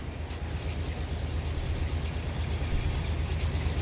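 A train engine in a railroad simulator game holds a steady, low diesel drone with a throbbing hum at an even level for a few seconds, with no voices.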